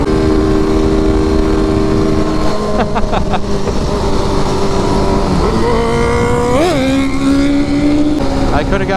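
A Kawasaki ZX10 motorcycle fitted with a performance pipe revs and accelerates loudly, with steady engine drone and rising pitch sweeps toward the end, close and continuous.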